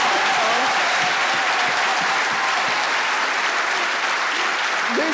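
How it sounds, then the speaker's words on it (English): An audience gives a sustained round of applause at a talk with filmmaker Yara Shahidi, a loud, dense clapping that holds steady throughout, with faint voices mixed into the crowd. "can we do at least one round of applause"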